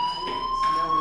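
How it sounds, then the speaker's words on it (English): Fire alarm ringing in the video game Life is Strange, a steady high electronic tone that sounds continuously at fairly strong level with faint pulsing behind it. "do you hear that fire alarm? That means you should be outside."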